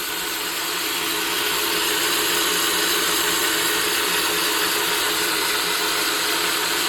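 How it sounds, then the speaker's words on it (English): Milling machine boring out a fresh sleeve fitted into a Yamaha YZ 250 two-stroke cylinder that had been Nikasil plated, a steady loud whirring and grinding of the cutter running continuously with no pauses. "There we go, boring the fresh sleeve."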